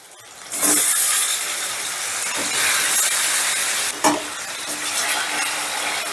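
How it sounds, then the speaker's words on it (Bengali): Marinated chicken dropped into a hot pan with softened tomatoes for chicken rice, bursting into a loud, bright sizzle that holds steady, with a few stirring scrapes breaking through, close up and without talk. "এই স্টেজে দিয়ে দিচ্ছি ম্যারিনেট করা চিকেন।"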